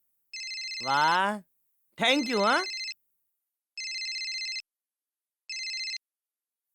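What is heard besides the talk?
phone ringing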